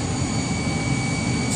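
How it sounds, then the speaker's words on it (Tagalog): A steady, loud, roaring hum of a car wash vacuum in Sharjah, UAE, continuous and close with no variation. "Marinig mo yung ugong ng vacuum nila sa balakas"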